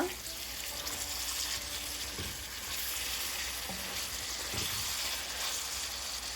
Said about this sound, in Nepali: यसलाई छोपेर यो टमाटर राम्ररी गलुन्जेलसम्म यसलाई पकाउनुपर्छ